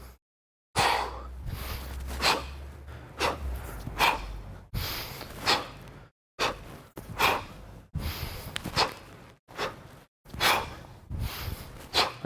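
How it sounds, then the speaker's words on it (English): Heavy rhythmic breathing during kettlebell snatches at a normal pace, sharp forceful exhales and inhales repeating steadily, close to the listener with short silent gaps between breaths. "As I'm using a normal pace, my breathing sounds like this."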